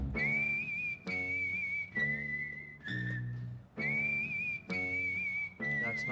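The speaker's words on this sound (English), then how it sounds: "Whistle." A melodic whistle carries a tune during a band rehearsal, over a steady instrumental backing, loud and close, in several sustained phrases.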